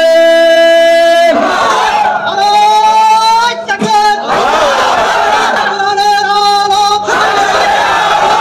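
A large crowd at an Islamic religious gathering roars Allahu Akbar in response to a takbir call, repeated loud chanted shouts that swell and overlap in several waves with a strained, echoing quality.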